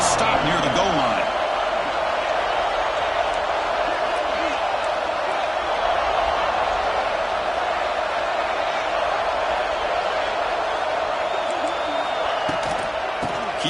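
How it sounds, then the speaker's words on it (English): Football stadium crowd roaring steadily as the home fans get loud to back their defense near the goal line, a dense continuous wall of cheering with occasional whoops under play-by-play commentary. "the crowd really making some noise now, trying to help out this defense"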